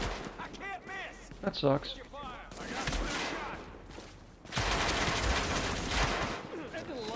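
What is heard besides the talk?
gunfire in video game The Division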